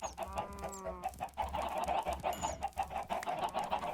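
Minecraft chickens cluck in a busy, close cluster of short repeated clucks, with a few higher squawks and game music running faintly underneath.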